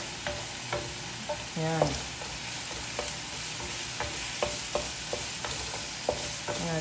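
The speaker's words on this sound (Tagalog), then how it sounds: "Nag-start na mag-caramelize yung ating sibuyas. So, unti-unti ko na hinahalo yung ating manok." Onion and chicken marinated with fish sauce and pepper stir-frying in a pan, a steady quiet sizzle broken by repeated scraping and clattering stirs at irregular intervals, with no talk over it.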